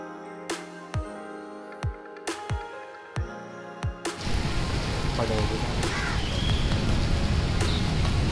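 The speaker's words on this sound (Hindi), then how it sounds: "बाहर बारिश का मौसम हो रखा है" Steady rain falling outside, a dense hiss that sets in partway through after several sharp taps and knocks.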